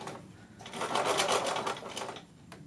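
A sewing machine stitches the zipped back of a cushion in one short burst of fast, even needle chatter that starts, holds steady and trails off, close up and fairly quiet with no talking.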